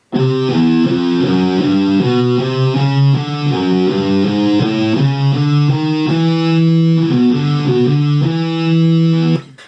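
A heavily distorted guitar plays a low, repeating riff, loud and continuous, with sustained gritty notes and no voices.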